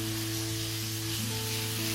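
Chopped kachri goes into a pan of spices frying over a low flame, raising a steady, close, even sizzle throughout with no talking.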